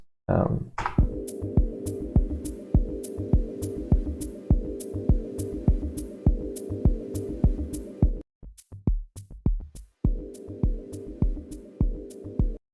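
Music in MilkyTracker with a steady pulsing beat and sharp clicks, evened out by a soft distortion and companding effect; the backing drops out briefly, leaving only the percussive hits, then returns.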